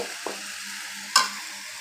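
Mixed vegetables and soaked masoor lentils stir-fry in a pan, a steady close sizzle broken by two sharp spatula scrapes, one small and one louder.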